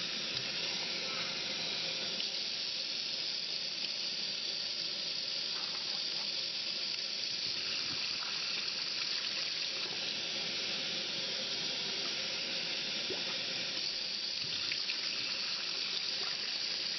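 Cold tap water pours steadily into a pot of cooked pasta shells, a continuous hissing, splashing rush that holds fairly even throughout without talk.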